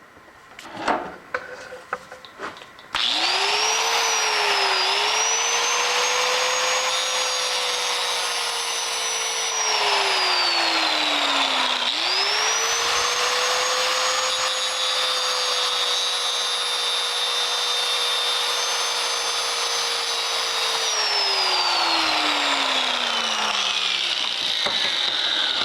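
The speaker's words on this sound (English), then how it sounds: "So we'll go over to the grinder." A bench grinder winds up to a loud, steady whine that runs for most of the clip, its pitch sagging and recovering as it is loaded, with a brief dip partway through and a spin-down at the end.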